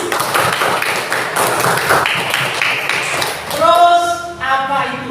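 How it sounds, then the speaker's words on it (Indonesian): Students in an Indonesian classroom clap their hands together in a brief burst of applause, followed by children's voices speaking. "Tepuk tangan dulu."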